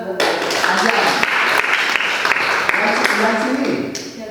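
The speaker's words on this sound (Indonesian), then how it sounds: "Tepuk tangan buat Azam" Sustained applause from a classroom or workshop group honoring a participant named Azam, dense and steady for several seconds, with a few louder individual claps and faint voices mixed in.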